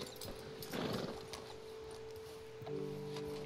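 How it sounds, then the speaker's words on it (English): Horse in the video game Red Dead Redemption 2, giving a moderately loud whinny early on followed by steady low hoof and movement noise, with a sustained tonal game sound entering near the end. "I mean, it is a nice horse"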